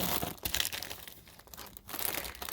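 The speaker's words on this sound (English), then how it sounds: "I'm gonna put it in a plastic bag first" A plastic bag crinkles and rustles steadily up close while an order is packed, with dense, continuous crackling that swells and dips throughout.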